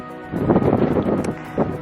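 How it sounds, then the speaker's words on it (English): Gusty buffeting of wind against a microphone on the Tahoe Rim Trail, low rumbling thumps and rustle rising and falling over a couple of seconds. "it's windy, so you might not be able to hear"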